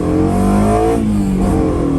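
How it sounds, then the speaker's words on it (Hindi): A tuned car with stainless steel piping and an FGK chambered exhaust revs loudly and steadily up close, its engine note rising and falling in a continuous growl. "उसके अलावा आप गाड़ी की आवाज चेक कर सकते हैं।"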